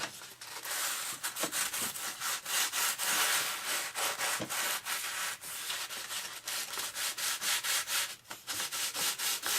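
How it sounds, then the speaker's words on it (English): Sandpaper rubs back and forth along an edge of a model aircraft build part in quick repeated strokes, close and scratchy, with brief pauses between passes and no talking. "I might even sand that. I think that's what I'm going to do with this one. So a little piece of sandpaper here."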